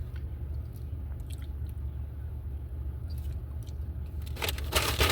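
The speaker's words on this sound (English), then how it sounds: "I'm gonna tell them don't put all these crunchy things in there. I don't like to chew my ice cream." Crunchy mix-ins in a McDonald's McFlurry ice cream being chewed close up, soft wet crunching over a steady low background hum, with a louder burst near the end and no talking.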